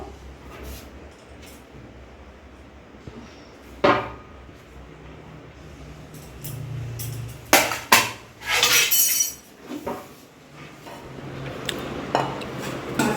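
Rice being served onto plates, with clinks and knocks of dishes and a serving spoon scattered across the scene, some louder clattering bursts in the middle, close by and without talk.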